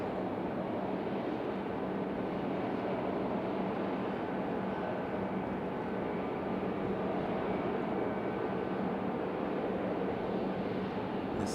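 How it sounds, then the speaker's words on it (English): An Airbus A220-300 airliner passes at an airport, its engines making a steady, broad roar that holds evenly throughout, with no voices. "This A220-300."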